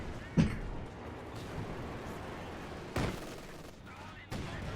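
Distant indirect-fire shelling from a Caddy artillery unit in the strategy game Company of Heroes 2, with a few muffled booming impacts spread out over a rumbling battlefield background.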